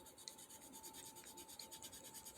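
Pencil shading on paper for a light-bulb sketch: faint, close, steady scratchy strokes rubbing back and forth in an even rhythm, with no talking.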